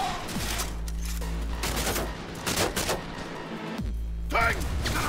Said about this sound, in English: Why is this gun doing that?